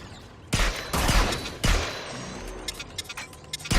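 Rifle fire in the sci-fi shooter Farpoint, with several loud, sharp shots spaced across the moment, each followed by a booming tail, and some lighter clatter toward the end.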